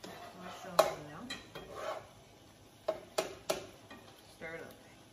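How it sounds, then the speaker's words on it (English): Mushrooms tipped into a pot for stuffed bell peppers, then stirred with sharp metallic clanks of utensil against pot, several distinct knocks and scraping over low background sizzle, with brief voices. "I'm gonna put the mushrooms in now"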